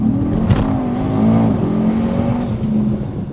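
A Brabus-tuned Mercedes-Benz E63 S wagon engine hums steadily with rising, revving harmonics as it accelerates, loud and close, with a brief louder burst early on.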